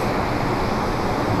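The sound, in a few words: strong rushing water current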